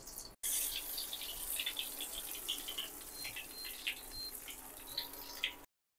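Egg chops frying in hot oil, a steady bright crackle and sizzle that starts after a brief gap, runs for a few seconds and then cuts off.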